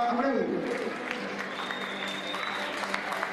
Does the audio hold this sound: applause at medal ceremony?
yes